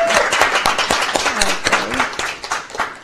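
An audience claps at a live event, a short burst of scattered, uneven hand claps of moderate loudness with some talk over it.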